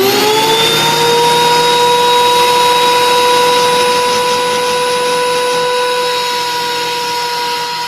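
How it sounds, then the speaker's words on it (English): A workshop dust collector roars steadily and loudly, its motor whine rising briefly at startup then holding a constant tonal drone throughout, with no one speaking. "I got to walk over here and turn the dust collector on."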